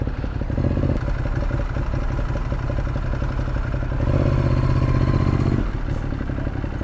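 A scooter rides the wrong way along a one-way Paris street, its mid-pitched engine buzzing loudly and steadily close by with some clatter, swelling briefly near the end before easing off.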